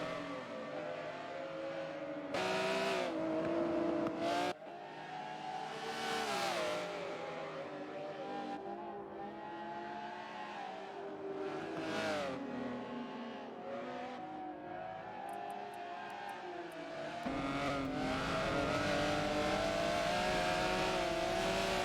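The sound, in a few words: race cars driving in Forza video game race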